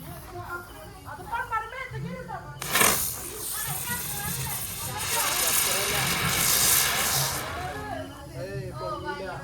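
A spinning helicopter firework ignites during the Vishu festival with a sudden whoosh and a sustained fizzing, whirring hiss, while excited voices and children chatter around it.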